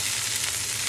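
Chicken drumsticks fry in a pan, a steady dense sizzle with crackling grease that holds even and fairly loud through the whole second, with no voices over it.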